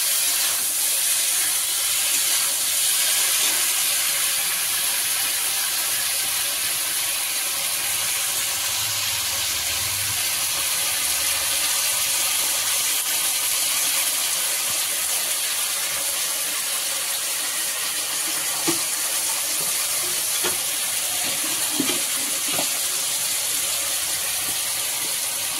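A tilapia fish curry simmers steadily after potatoes and water go into the pot, giving a continuous hiss and soft bubbling with faint clinks around the middle, and no one speaks.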